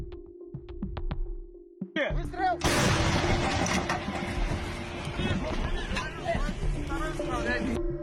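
Russian artillery fire hits a landing held by Ukrainian soldiers in the Sumy direction: a few sharp distant reports, then a heavy blast that opens into loud sustained rumbling and crackling with scattered impacts, mixed with faint radio-like voices.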